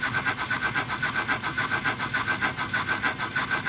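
Royal Blue model steam locomotive chuffing in a steady rapid rhythm of short hissy puffs, close and continuous, with no voices.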